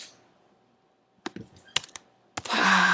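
Typing on a computer keyboard to enter a blog title, heard as a few sharp, close key clicks in a short irregular burst after a quiet pause, followed by a louder rush of noise.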